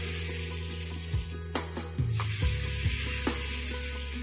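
Moong dal chilla batter hits a hot pan and spreads, a constant sizzle over a steady low hum, broken by a few scraping clatters as it is spread.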